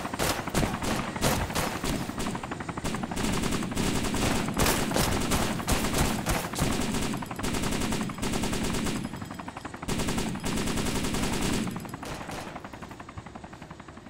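Gunfire in DayZ Overpoch: long stretches of rapid automatic shooting with crackling, dense reports, steady and fairly loud, pausing briefly before resuming and then thinning out.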